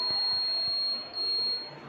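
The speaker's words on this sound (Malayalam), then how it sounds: "എന്നാൽ അടുത്ത് വന്നു കഴിഞ്ഞാൽ അത് ബസർ അടിക്കും" A buzzer on obstacle-detecting glasses for blind users, a school innovation project that senses ultrasonic echoes, sounds a steady, piercing high-pitched tone that continues without a break, close and loud over faint background noise.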